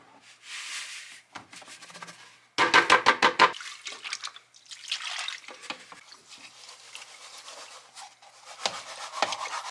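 Crushed white beach quartz swirled and rubbed in water in a gold pan, giving wet gritty scraping and sloshing in bursts, loudest in a rough rhythmic stretch midway, with short pauses between.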